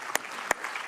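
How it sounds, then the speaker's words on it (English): Brief applause from an energy forum audience in Sydney: a soft wash of clapping with three sharper claps standing out, moderately faint and without talk. "Let's give them a round of applause."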